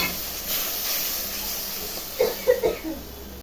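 Whole spices, ginger paste and green chili paste hit a hot pan, giving a steady close hiss of frying with a few soft pops and spatters near the end.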